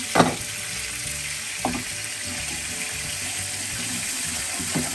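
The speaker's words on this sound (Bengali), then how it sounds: "আমি ফ্রাই করা দিলাইছি আর এবারে শালগমও বয়েছি আর এবারে লেগে চিংড়া" Turnip and shrimp fry in a pan in a home kitchen, giving a steady close sizzle with a few brief stirring or clinking knocks and no talk.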